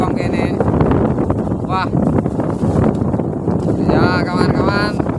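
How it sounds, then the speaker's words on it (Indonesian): Strong southwest wind blows at sea during shoreline fishing, making a continuous broadband roar and buffeting across the microphone, with someone speaking over it. "Wah, angin barat daya datang."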